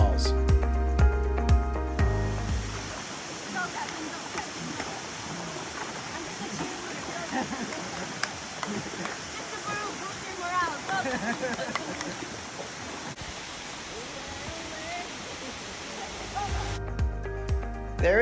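Steady rushing water roars at the base of a waterfall in a forest in Bohol, Philippines, a broad continuous wash that fills most of the clip, with brief other sounds at the start and end.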